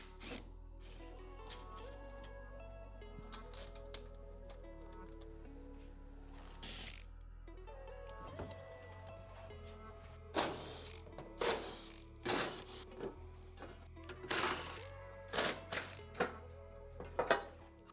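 Stock skid plate bolts being removed from a Kawasaki KRX 1000 side-by-side, with a low hum underneath and then several sharp metallic clicks and clunks of hardware and tools near the end, and no talking.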